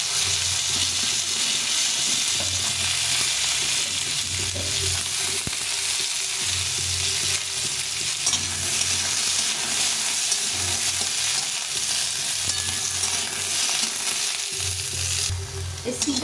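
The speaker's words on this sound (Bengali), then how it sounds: "এখন এই তেলে একটু সিমটা ভেজে নেব।" Flat beans sizzle steadily in hot oil in a pan, a continuous close crackle with occasional stirring scrapes throughout, no voices.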